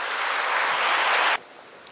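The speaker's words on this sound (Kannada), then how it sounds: "ಒಂದು ದೊಡ್ಡ ಚಪ್ಪಾಳೆ" A dense, steady burst of applause from a seated audience, loud and continuous for over a second before cutting off abruptly into near silence.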